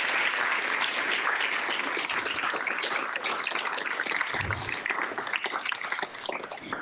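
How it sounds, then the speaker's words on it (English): An audience at a conference opening applauds, a dense, sustained wash of many hands clapping that holds steady throughout without speech. "can you please join me in a big round of applause for all of the hard work of all these people?"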